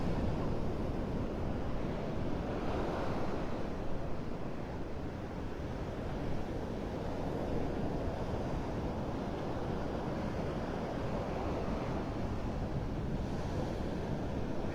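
High-tide surf during Tropical Storm Debby on a narrow stretch of Vanderbilt Beach in North Naples, Florida: a steady, loud roar of breaking waves mixed with wind buffeting the microphone, continuous throughout.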